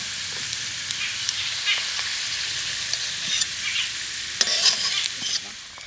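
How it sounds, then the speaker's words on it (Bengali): Chopped onions fry in hot oil while being stirred, a steady crackling sizzle broken by scraping strokes of a spoon against the pan, close and fairly loud with no voices. "পেঁয়াজ কুচিটাকে ভালো করে ভেজে নেবো"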